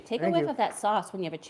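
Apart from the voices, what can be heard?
No everyday noise stands out behind the speech.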